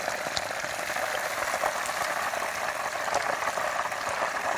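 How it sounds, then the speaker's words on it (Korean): Steady, dense bubbling and crackling of hot frying oil as moisture boils off frying chicken for kkanpunggi, close and continuous, with no voices. "수분이 지금 보글보글 끄는 거거든요. 수분을 날려주는 거죠."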